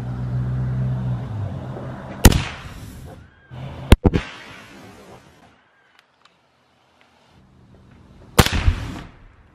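Loud gunshots fired at a carved Halloween pumpkin, three sharp cracks spread over several seconds, each ringing out briefly, with quieter rumbling background noise between them.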